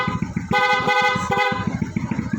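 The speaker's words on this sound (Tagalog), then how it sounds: "Yung loud horn" A loud vehicle horn gives one sustained blast of about a second over a steady rumbling engine background.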